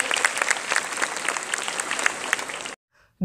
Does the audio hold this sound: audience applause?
yes